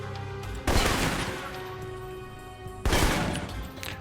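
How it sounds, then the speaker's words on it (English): Burst fire from an assault rifle in the video game Alpha Protocol, with two loud, dense bursts of shots. Each burst is sharp and close, and a sustained crackling rattle runs between them. "So if you focus the assault rifle all the way, then it guarantees that all 3 bullets will hit."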